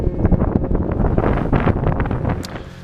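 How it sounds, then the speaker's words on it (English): Strong mountain wind in the Drakensberg buffets the microphone in loud, continuous rumbling gusts, close and rough, with no voices. "Some pretty gnarly winds started up overnight"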